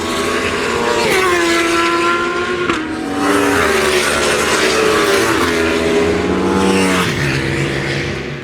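Roaring motorcycle engines scream past one after another on a racetrack at the High Side Ride Festival 2024, pitch sliding down as each passes, loud and continuous.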